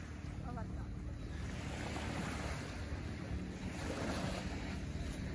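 Ocean waves wash and surge in a steady broadband rush near Yokosuka, mixed with wind buffeting the microphone and faint boat noise, continuous throughout with no clear speech.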